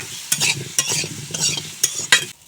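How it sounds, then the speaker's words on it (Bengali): Potatoes with a little turmeric and salt frying in hot oil with a sizzling hiss, broken by repeated scraping strokes of a spatula stirring in the pan. "সামান্য হলুদ গুঁড়া আর সামান্য লবণ দিয়ে আলু ভেজে নেব"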